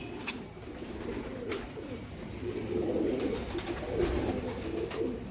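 Soft, low coos of Saadnaa bloodline pigeons roll on in a steady murmur, with a few sharp clicks and rustles of birds moving close by.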